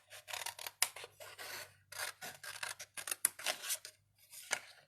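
Scissors rough-cut printed artwork for glass slide pendants, making a rhythmic run of crisp close snips in quick bursts with short pauses between them and no speech.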